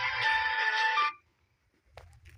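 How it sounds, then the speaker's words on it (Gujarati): A phone ringtone plays loud and close for about a second in a quiet night-time setting, then cuts off into near silence before faint shuffling sounds. "રાતનો ક્યાંનો ફોન આવ્યો આપણે"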